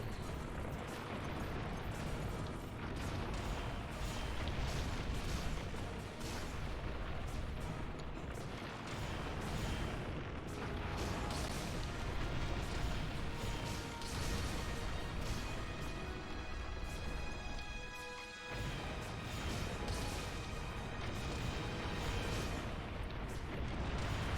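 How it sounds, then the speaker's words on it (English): Cannon fire in the video game Monster Hunter Generations Ultimate brings a dense, continuous run of heavy booms and crashing impacts, loud throughout, with one brief dip near the end. "really hard to tell where this cannon's gonna hit."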